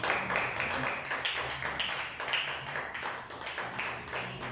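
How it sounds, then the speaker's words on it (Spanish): A church congregation at a Bible study claps together, with rhythmic, distinct handclaps repeating steadily and fairly close for several seconds. "Denle un fuerte aplauso a nuestro Dios"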